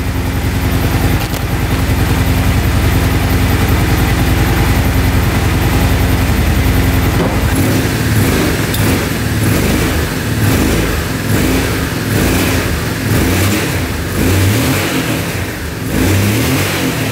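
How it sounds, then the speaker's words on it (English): A UTV engine idles roughly, then revs up in repeated throttle bursts, a loud, close mid-pitched motor rising and falling with no talk over it. "Let's rev it up a little bit."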